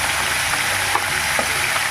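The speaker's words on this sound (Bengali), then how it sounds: "ভালো করে আমি ভেজে নিচ্ছি মাছের মাথাগুলোকে" Fish heads fry in hot oil with a steady, dense crackling sizzle throughout, punctuated by a few brief louder spits as the pieces are turned, close and continuous with no voices.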